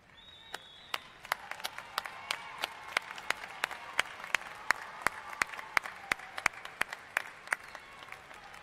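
Graduates at a fall commencement ceremony applaud their families: a broad crowd of clapping swells after the first second and continues, with loud individual claps standing out sharply over the rolling applause.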